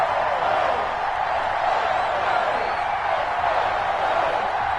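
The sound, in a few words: stadium crowd in NFL video game on EA Sports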